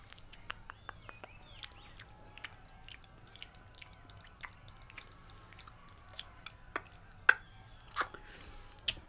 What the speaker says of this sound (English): Some of the bones can get a little crunchy.